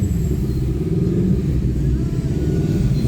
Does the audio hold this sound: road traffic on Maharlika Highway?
yes